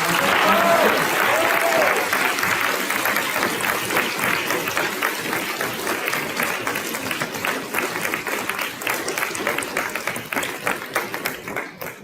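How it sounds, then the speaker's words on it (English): A school audience gives a long round of applause after senior speeches, dense sustained clapping from many people that continues for about twelve seconds. A voice is briefly heard over it near the start, and the clapping thins slightly toward the end. "So, another round of applause."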